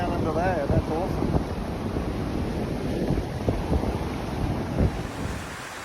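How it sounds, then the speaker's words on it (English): Floodwater from heavy cyclone rains rushes and roars steadily in a broad, continuous wash, with wind buffeting the microphone and a voice briefly heard at the start. "look at that water rolling down under there"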